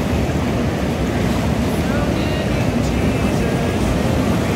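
A loud, steady roar of water rushing at a dam fills the whole clip, dense and continuous, with faint voices underneath.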